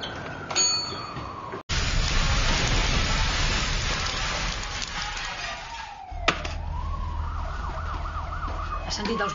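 A fire engine siren wails in rising and falling sweeps as it heads to a burning house, arriving late behind a steady rush of rain-like noise and fairly loud.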